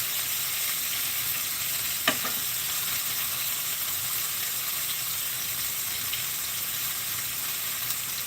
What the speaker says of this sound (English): while the lamb chop is cooking